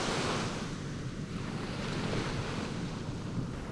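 Sea surf rolls steadily onto an empty beach, a continuous broadband wash of waves with wind noise across the microphone and no voices.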